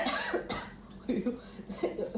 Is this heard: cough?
yes